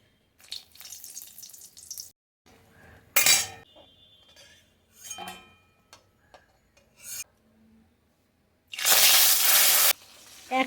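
Hilsa fish fries in a pan, giving off bursts of rasping sizzle and scraping between quieter stretches, ending in a loud, sustained hiss near the end.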